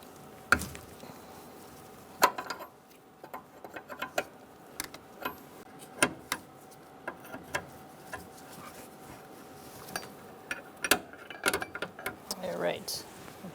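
A 13mm wrench works loose a brake line fitting on a 2000-2007 Ford Taurus brake master cylinder, giving sparse metallic clicks and taps at close range under faint background noise.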